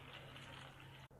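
Water running as it is added to a pot for an old-style pumpkin curry (gummadikaya dappalam), a brief steady close pour that cuts off near the end.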